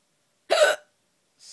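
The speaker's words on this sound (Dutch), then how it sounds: "Ik heb eigenlijk geen trucje om van de hik af te komen." A single sharp, loud hiccup bursts out, followed about a second later by a fainter, shorter second hiccup, with silence around them.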